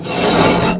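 Long metal poker scraping inside the heat exchanger of an outdoor wood boiler, one loud close continuous rasping scrape lasting under a second.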